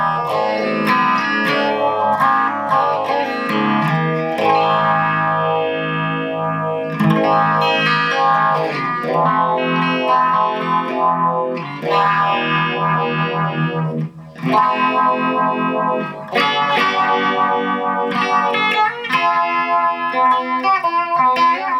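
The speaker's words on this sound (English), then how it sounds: "the phase shifter is probably not only one of the best sounding, but very reliable" Electra MPC phase shifter effects module processing a distorted electronic instrument, with sweeping phased harmonics moving up and down through dense, continuous sustained tones at steady loudness, no talking.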